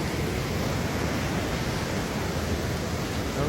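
Broad, steady roar of floodwater rushing over a road after torrential rain in Kaišiadorys district, Lithuania, loud and continuous with no pauses and no voices.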